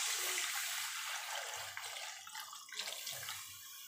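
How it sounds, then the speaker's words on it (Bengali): Warm water is poured into fried spice masala in a cooking pot, giving a loud, close, rushing splash and sizzle that fades and sputters over a few seconds, with no talk. "এবার আমি এই যে জলটা গরম করতে দিয়েছি এই জলটা আমি দিয়ে দেবো"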